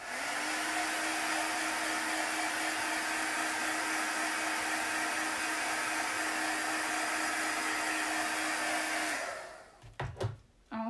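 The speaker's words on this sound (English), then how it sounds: "it's best to use cool air, like out of a hair dryer" A hair dryer blows steadily with a loud, even whoosh for about nine seconds, then switches off, leaving a few soft handling clicks.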